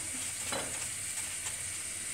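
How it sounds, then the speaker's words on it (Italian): Apulian Christmas pastries, cuscinetti di Gesù Bambino, frying in hot oil give off a steady, soft sizzle and crackle, close and continuous with no talk. "Ora, io continuo a friggere"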